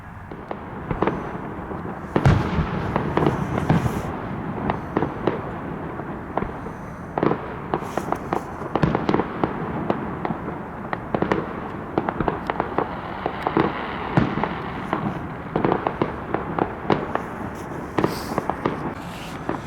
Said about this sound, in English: I even got you some fireworks for your birthday too